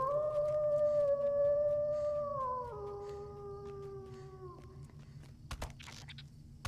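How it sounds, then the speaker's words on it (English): A wolf howls in The Lord of the Rings Online, a long, steady, tonal call that slides lower partway through and fades out after about four and a half seconds, followed by faint scattered clicks over a low ambient hum. "I don't know where the wolf howling is coming from"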